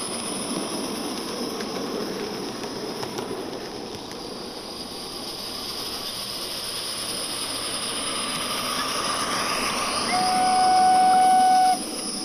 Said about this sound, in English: James Mitchell modeled his Garden Steam Railroad after a real railroad that operated in the Greers Ferry Lake area years ago